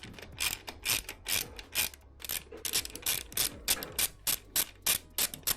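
A hand ratchet tightening radiator guard bolts on a Honda CB1000 Hornet motorcycle, producing bursts of quick metallic clicking strokes with brief pauses between pulls, close and clear.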